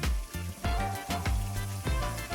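Medium shrimp sizzling in a hot pot for shrimp scampi, a close, continuous frying hiss with a few soft knocks and shifts as the shrimp are moved, no talk.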